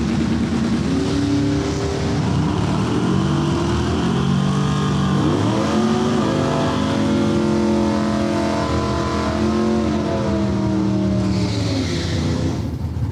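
Engines of NHRA drag race cars, among them an orange 1972 Camaro, a Challenger and a 1979 Z28, rumble and rev loudly and continuously up close, the pitch rising and falling with throttle blips.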